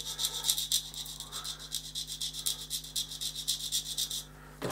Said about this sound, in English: to run a sanding stick across them again